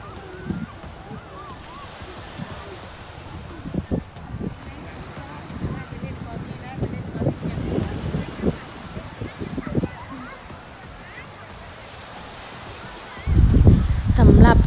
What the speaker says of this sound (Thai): จุดนี้เป็นหาดนางรำนะคะที่สัตหีบนะคะ